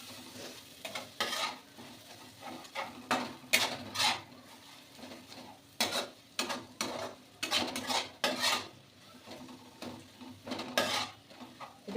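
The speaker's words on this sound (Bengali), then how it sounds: "এটা শুধু এরকম করে নাড়াতে চাড়াতে হবে" A utensil stirs and scrapes food around a pan in a home kitchen, making irregular clinking and scraping strokes close by, with a faint sizzle underneath and no talking.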